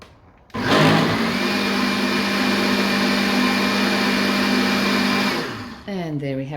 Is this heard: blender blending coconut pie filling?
yes